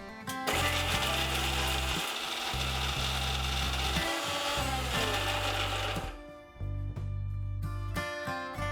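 An electric kitchen grinder pulsing as it grinds green chillies with sliced onion into a fine paste, a loud whirring motor running in several bursts with brief stops between, close up and without speech.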